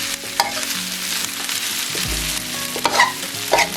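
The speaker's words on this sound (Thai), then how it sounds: "พอมันใกล้สุกเราก็ใส่ข้าวลงไปเลยค่ะ เอา คลุกเลยค่ะ" Sizzling and scraping of rice being stir-fried in a hot wok, with spatula clacks against the metal and a steady frying hiss.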